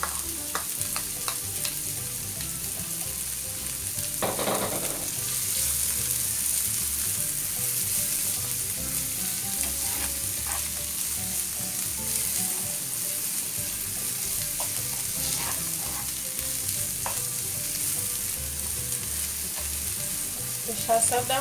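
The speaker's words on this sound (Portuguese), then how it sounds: "Vou colocar cebola picada." Chopped small onion frying in a pan for eggs in sauce gives a steady, close sizzle that runs the whole time, with occasional scrapes and clinks of stirring and no talking.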